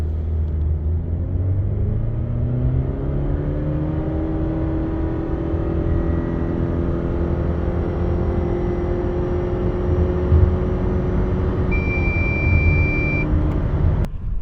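A 2023 Subaru Crosstrek pulls away from a standstill on a full-throttle 0-100 km/h run. The engine note climbs in a long, steady, loud drone with rising tones and constant road rumble, heard up close with no talking.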